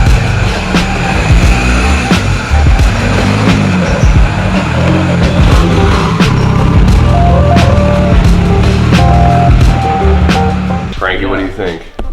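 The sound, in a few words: K-swapped FRS drift car engine driving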